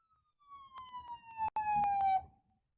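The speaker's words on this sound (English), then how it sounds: "Ambulances and fire trucks." Emergency vehicle siren from an ambulance or fire truck on a road, a single descending wail with a brief electronic yelp partway, moderately distant and fairly faint, no talk.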